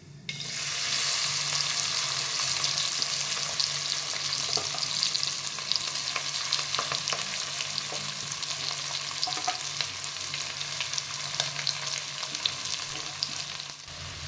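Capsicum and onion frying in a pan with repeated stirring, a loud, continuous hiss that starts suddenly and carries scattered scrapes and crackles throughout, heard close up with no speech.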